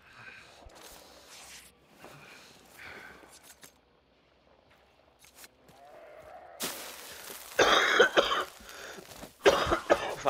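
A man coughs several times close to a headset microphone during a Hunt: Showdown match, harsh bursts between quieter game sounds, with louder noisy outbursts near the end.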